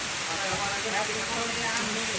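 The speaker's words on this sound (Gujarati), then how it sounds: "આપણે ઝાપટું જ છે પણ આનું વરસાદનું નક્કી ન હોય ક્યારે કેટલો આવે" Steady rain shower falling outdoors, a continuous even hiss of drops spread across the whole moment, moderately loud with no clear gaps or rhythm.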